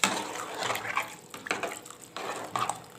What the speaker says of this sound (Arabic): انا كده بنزل بالميه بتاعتي والرز